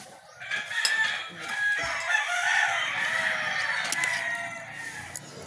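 Chickens and roosters on a Filipino poultry farm, several cocks crowing at once over steady clucking and fowl chatter, close and loud throughout with no talk.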